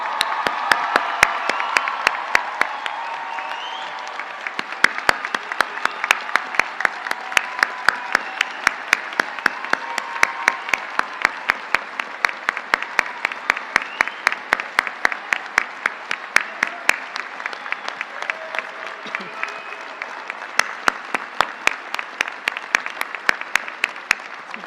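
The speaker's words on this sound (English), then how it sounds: "Please join me in a round of applause for the class of 2019." A large crowd applauds continuously at a law school commencement ceremony, and a steady rhythmic clap sets in and keeps a regular beat over the long, sustained ovation.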